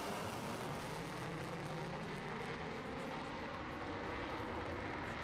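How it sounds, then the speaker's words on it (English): A Concorde flies overhead during a roll demonstration at the Blackpool airshow in the PTFS game. Its steady, broadband jet rumble stays faint and even throughout. "if you look over your heads, it is the Concorde roll demonstration."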